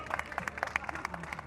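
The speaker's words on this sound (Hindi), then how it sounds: "आप लोग भी तालियां बजाएं" An audience at a Hindi comedy show claps briefly in a patter of scattered, quick hand claps, fairly faint.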